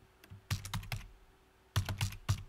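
Two quick bursts of clicky keystrokes on a computer keyboard as a command is typed into an HTTP testing tool, crisp and close in a quiet room with a pause between bursts.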